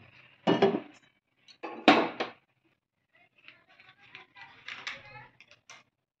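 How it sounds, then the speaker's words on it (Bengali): A karai, a Bengali wok, is set down on a lit gas stove in a home kitchen, making two loud, sharp metallic clanks close by, followed by softer handling clatter and some quiet talk. "গ্যাসটা জ্বালিয়ে নেব, নিয়ে কড়াইটা বসিয়ে দেব"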